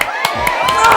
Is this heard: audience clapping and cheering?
yes